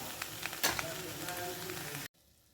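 Drumstick flowers sauté in a hot pan for a stir-fry, giving a soft, steady sizzle with a brief stirring scrape before cutting off abruptly.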